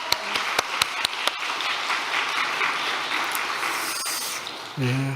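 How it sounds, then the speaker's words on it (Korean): Congregation applauding in a large church hall during a Sunday service, a few sharp early claps swelling into sustained broadband clapping that fades slightly before a voice returns at the end. "박수를 좀 올려드리겠습니다."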